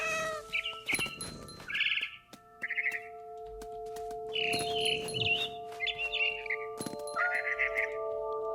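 Cat meowing in the video game What Remains of Edith Finch, several short meows and a bump amid bright bird chirps over a sustained tonal music bed, fairly close and clear.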